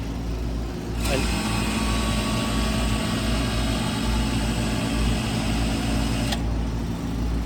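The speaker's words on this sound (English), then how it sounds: "The compressor came on a lag." The compressor of a Masterbilt cake freezer in 80-degree conditions kicks on and runs with a steady, loud low hum and buzzing drone, then cuts off near the end.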